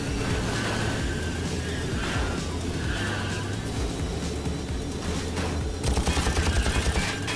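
Rapid bursts of weapon fire in the vehicle combat game BlazeRush rattle over constant engine and racing noise, with a quick repeating volley near the end, loud and dense.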